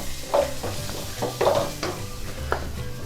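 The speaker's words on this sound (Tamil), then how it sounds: "இப்போ கொஞ்சோண்டு கருவேப்பிலை போட்டுறேன்." Curry leaves go into frying tomato and onion for a chutney, giving a soft, steady sizzle with a few scraping stirs and light clinks of a utensil against the pan, close by with no speech.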